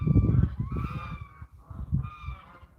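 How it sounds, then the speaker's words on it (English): Geese on a mountain farm honk in two loud, nasal bursts close by, the calls overlapping briefly before trailing off, with no voices. "Like I said, the geese."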